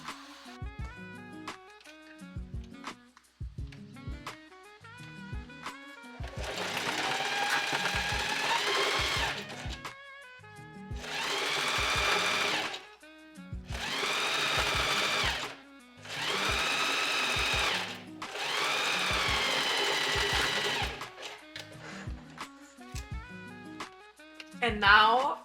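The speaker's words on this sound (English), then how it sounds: "And now we're just gonna sew straight down here." A sewing machine stitching fabric for a make-up bag runs in several bursts of steady mechanical whirring a few seconds long, separated by pauses filled with small clicks and handling noises, close and clear.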